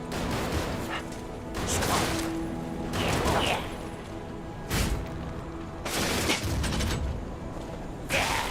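Bursts of video game gunfire crack out repeatedly in clusters, loud and close, with brief lulls between volleys and faint game noise underneath.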